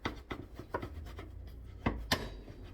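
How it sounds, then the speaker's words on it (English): A knife slices along the length of an eggplant on a cutting board in a series of soft, uneven scraping and tapping strokes, close up, with a couple of sharper knocks near the end. "Keep your onion knife nice and even, and just run along the length of it."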